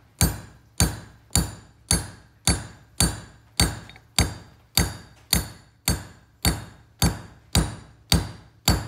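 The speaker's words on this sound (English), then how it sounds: "It's a big hammer." A big hammer taps a hand plane in a steady, even rhythm of about fifteen sharp metallic strikes, each ringing briefly before the next, close and fairly loud with no talk.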